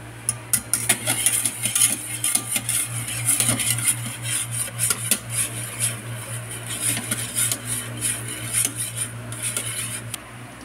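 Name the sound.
stirring mixture in pot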